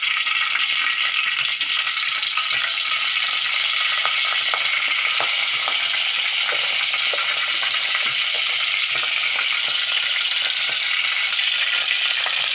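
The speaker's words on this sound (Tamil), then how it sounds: "அப்படியே முருங்கைக்கீரை எண்ணெயில் சுண்டுறது எப்படின்னு பார்ப்போம்" Moringa leaves frying in hot oil in a pan, a loud continuous hiss and crackle with spatula stirring rattles throughout, close and unbroken with no voices.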